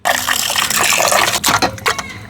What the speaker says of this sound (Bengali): আমি গোস্তটা এখন ধুয়ে লাই